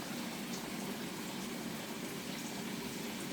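Water-soluble calcium solution, made from deer bone, antler and cooked crushed eggshells, poured into about two gallons of water; a steady, close, continuous gushing splash of liquid running throughout without a break.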